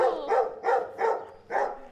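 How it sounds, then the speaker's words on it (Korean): A dog barks fiercely at strangers on a street in Europe, four sharp, evenly spaced barks close by and loud, with no one talking. "이방인을 향해 무섭게 짖어대는 개 한 마리."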